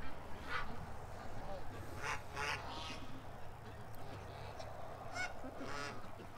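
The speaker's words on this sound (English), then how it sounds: "Oh, there's a goose coming. Here comes my goose." A goose honks a few times at moderate distance while ducks are being fed outdoors, with quacking-like calls scattered over steady low background noise.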